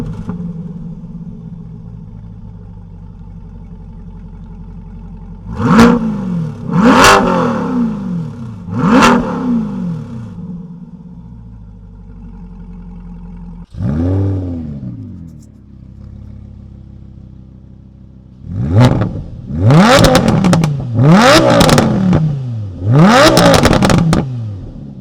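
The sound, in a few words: Chevrolet Corvette C8 Stingray with Borla exhaust revving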